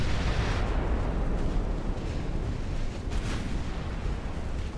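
A battleship is blown apart in the naval game Ultimate Admiral Dreadnoughts, a dense, continuous roar of heavy booming explosions and artillery-like blasts that stays loud throughout.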